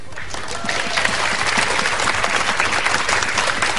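Studio audience on a game show gives a steady, dense burst of applause that builds after a brief start and holds loud throughout, with a voice faintly underneath.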